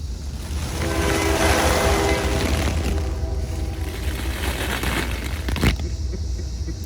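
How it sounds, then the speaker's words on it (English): A train rumbles loudly past a Rocky Mountain town with rattling cars, its horn sounding in long blasts near the start before the noise fades a little. "Don't forget the train coming through."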